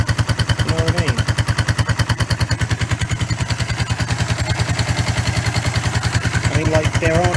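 A Suzuki GN125 motorcycle engine idles with a fast, even putter close by, while someone talks intermittently over it.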